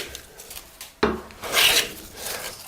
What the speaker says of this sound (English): Even in the hardwoods, like, well, hard maple, I can still get nice curls without clogging.